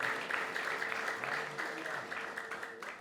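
A church congregation at a conference service claps together in a steady, dense round of applause, with a voice carrying over the clapping throughout.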